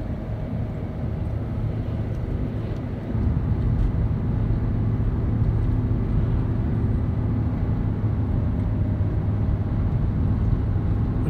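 Chevy Colorado with a 2.5-litre engine towing a 1964 Impala SS uphill in third gear at about 3,000 RPM, a steady low cabin rumble that grows louder a few seconds in and holds without speech.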